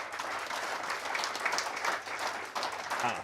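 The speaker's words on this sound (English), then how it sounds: "round of applause" An audience at a live Newcastle United fan event gives a round of applause, a full, steady crowd clapping at moderate level with a brief dip midway before swelling again.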